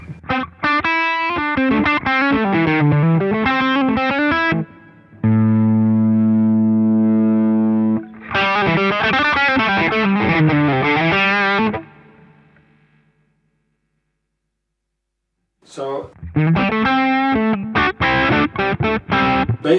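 An electric guitar runs through a Rowin Dumbler overdrive pedal with its voice knob turned fully down, giving loud, close, distorted riffs, a sustained held chord, a short pause, then more riffing.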